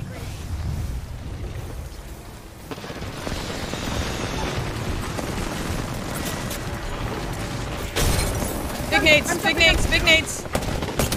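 Grenades go off during a Caustic match in a battle royale shooter, booming bursts and crackling gunfire building toward the end, with players chatting over the action.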